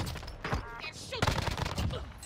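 Gunfire in the video game Warzone on Rebirth Island, a rapid burst of dense overlapping shots and booms over about two seconds, loud and close, mixed with game voice lines.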